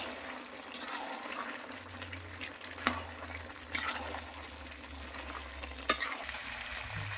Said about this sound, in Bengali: যতক্ষণ মাংসটা সিদ্ধ হচ্ছে ততক্ষণ পর্যন্ত কষাতেই থাকবে।